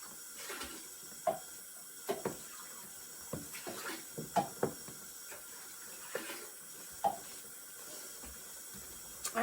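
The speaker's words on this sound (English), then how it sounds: "So I'm just going to give these a rinse out." Dye pots are rinsed under a running tap: a soft, steady splash of water with irregular sharp clinks and knocks of the pots, quiet and close with no talk.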